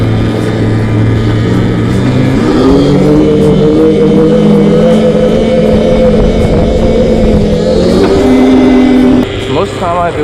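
A 72V electric ATV quad on a test ride gives off a loud, close whine whose pitch rises and falls as the speed changes, with strong wind rumble throughout.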